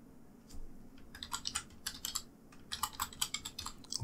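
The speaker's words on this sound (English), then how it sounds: "Press enter on my keyboard." Irregular bursts of keystrokes on a computer keyboard, close and clear, with short pauses between flurries of typing and no voices.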